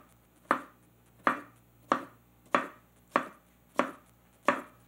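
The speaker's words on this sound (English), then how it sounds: "So after you cut this, you know what? You can still cut tomato." A sharp freshly honed commercial kitchen knife slicing a tomato on a board, seven crisp evenly spaced chops with clean gaps between strokes, close and alone.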